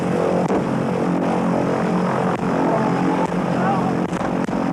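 Airplane engine running steadily at an airstrip, a constant loud droning roar that fills the whole stretch with a hint of propeller hum, and voices can be heard faintly beneath it.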